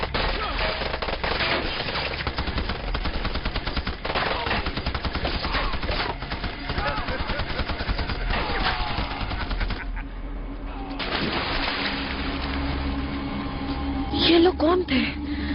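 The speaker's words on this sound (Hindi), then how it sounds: "कुछ लोग हम पर शूट कर रहे थे।" Gunfire in a war-zone scene from the film Primeval, with dense rapid bursts and scattered shots that are loud and continuous for most of the stretch, thinning briefly before more shots and a voice near the end.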